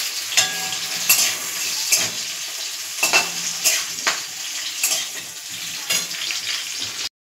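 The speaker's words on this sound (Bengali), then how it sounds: "নুন দিয়ে ভালো করে নেড়ে ভেজে নেব।" Salted potatoes frying in a pan for a vegetable aloo dum are stirred steadily, a close, continuous sizzle punctuated by repeated scraping strokes of the spoon until the sound cuts off abruptly.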